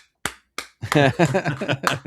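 A person slapping their own cheeks in imitation of clapping: two sharp smacks, then a quick rapid series of slaps, close and dry, with voices talking over them.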